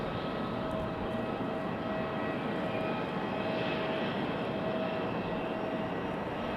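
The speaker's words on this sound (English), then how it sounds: "Delta 2716 coming in from Minneapolis. This one an A319." A Delta Airbus A319 airliner arriving from Minneapolis at Raleigh-Durham airport produces a steady, broad engine roar, even and unbroken, with a faint whine over the wash.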